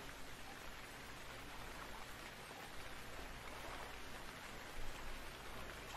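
Summer rain in the survival game Stranded Deep: a steady, faint, even hiss of falling rain that continues without a break.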